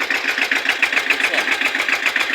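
A Tata diesel truck engine idles close by, its rhythmic, even chugging steady and unbroken.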